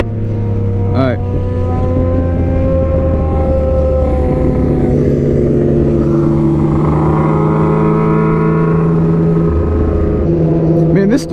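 A Yamaha MT-09 motorcycle engine drones loud and close while riding, holding a steady tone that shifts pitch as the revs change, with wind rush and occasional talk over it.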